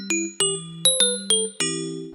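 A notification bell sound effect rings out as a quick series of bright chime tones, six clean ringing strikes with sustained decaying tones, the last one lingering longest.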